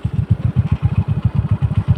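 A Honda TMX, Suzuki Raider J110 or Smash 115 motorcycle idles close by on a rural hill ride, its small single-cylinder engine thumping in a steady, even pulse throughout with no talk over it.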